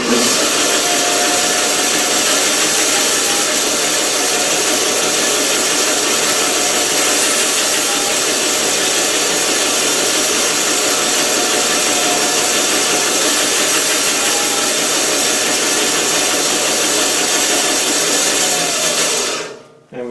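Power tool cutting small wooden kerfing strips for a guitar kit build, a steady loud whine running continuously for about twenty seconds before cutting off abruptly at the end.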